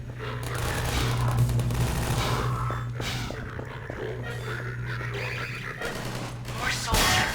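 Automated turrets in Half-Life 2 played in VR fire a long, dense burst of rapid gunfire with a steady low hum beneath, heard mid-distance amid other combat noise.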